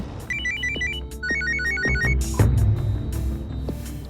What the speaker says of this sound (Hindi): ये कमल फोन क्यों नहीं उठा रहा है?